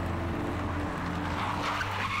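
In the video game Little Misfortune, a car skids with a loud, steady tire squeal and engine roar held close for about two seconds, with no talking.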